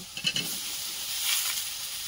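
Meat fries in a clay pot during Bengali home cooking, giving a steady, soft sizzle with a few brief stirring scrapes near the start, no voices.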